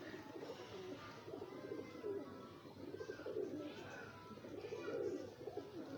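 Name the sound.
pigeons cooing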